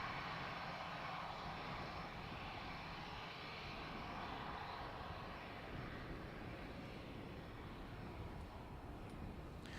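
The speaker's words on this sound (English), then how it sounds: "ATR next in from Bristol." ATR turboprop arriving at Dublin Airport from Bristol, a faint, steady, distant engine drone that holds evenly throughout with no voices.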